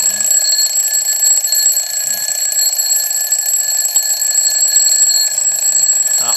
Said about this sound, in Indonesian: yang di atasnya itu buat nada ininya, loncengnya kayak gini